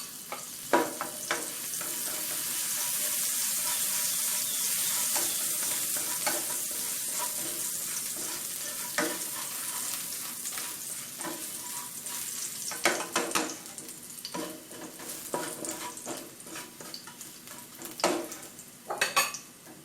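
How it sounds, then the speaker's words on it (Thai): Garlic frying in a pan for Thai-style stir-fried egg noodles, a steady close sizzle with repeated scraping and clinking of a utensil against the pan as it is stirred, no talking. "แล้วก็ใส่ กระเทียมค่ะ"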